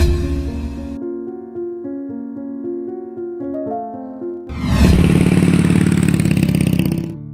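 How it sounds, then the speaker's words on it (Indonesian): An old, beat-up motorcycle engine starts running partway through, a loud, rough, continuous rumble that follows a stretch of steady tonal sounds. "Tumben pakai motor butut"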